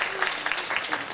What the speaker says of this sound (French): On l'applaudit une fois de plus.